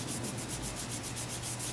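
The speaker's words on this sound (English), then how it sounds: "So I'm sanding it lightly with just a little bit of pressure" Sandpaper rubs lightly over a gessoed canvas in quick, even back-and-forth strokes, a close, soft, rhythmic scratching with no voices.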